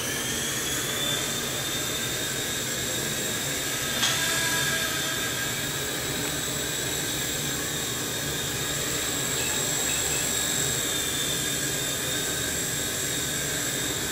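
A small T-REX 100X RC helicopter flies indoors with a continuous high-pitched rotor and motor whine, near and fairly steady, with a slight bump in pitch partway through.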